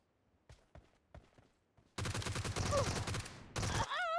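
Rapid bursts of Thompson submachine gun fire in PUBG Mobile, loud and close, starting after a few scattered faint taps, pausing briefly, then resuming with a final burst and a rising electronic whine at the end.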